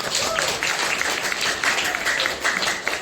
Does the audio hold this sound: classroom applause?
yes